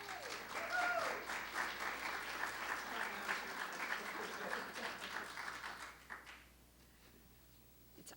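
An audience applauds to welcome a speaker at an event, a full round of clapping with a few cheers that carries steadily for about six seconds before fading out, leaving quiet room tone.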